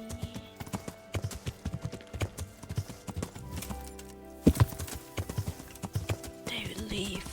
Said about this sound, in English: Hurry, horsey, hurry.